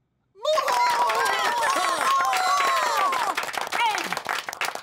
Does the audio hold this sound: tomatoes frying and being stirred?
no